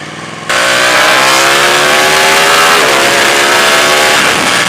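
A Ducati 899 Panigale motorcycle bursts into loud, close acceleration, its engine screaming upward in pitch and shifting gears quickly through a quick shifter with a brief dip before climbing again. There is no talking.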